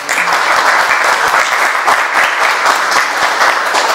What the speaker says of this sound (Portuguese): Uma salva de palmas para a doutora.